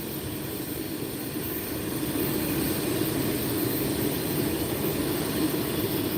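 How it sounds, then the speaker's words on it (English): A jet aircraft's engine runs at Lakefront Airport in New Orleans, a steady broadband roar heard from a distance that swells a little louder partway through, with no voices over it. "that jet is getting ready to turn around"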